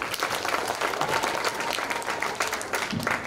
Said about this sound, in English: So give him an applause.